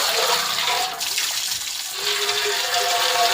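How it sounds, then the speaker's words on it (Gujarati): Water gushes from a tap into a tank where quilts are being washed, a loud continuous rush that dips briefly near the middle and then resumes. "નળ ચાલુ કરીને પાણી નાખી દો।"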